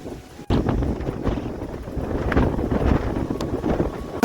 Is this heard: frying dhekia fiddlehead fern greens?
no